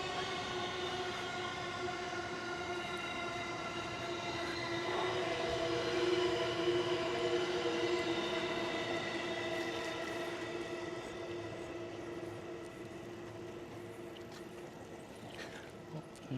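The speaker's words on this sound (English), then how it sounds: "we can even hear how the train is slowing down as it's arriving at the station" A Chuo Line train slows as it pulls into a station, sustained tonal motor whine with steady pitched harmonics over a low rumble, fairly loud and gradually easing, heard without speech.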